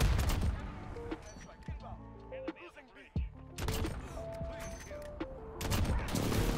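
Gunfire from Call of Duty Modern Warfare, with a sniper rifle, rattles in rapid bursts and scattered shots under game sounds and a talking voice, fairly loud throughout.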